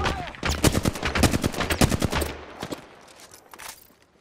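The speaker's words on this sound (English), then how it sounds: "Listen up, I'm getting shot at." Rapid automatic gunfire in the Apex Legends video game, loud and close, bursts of shots packed tightly for about two seconds before thinning out into scattered distant pops.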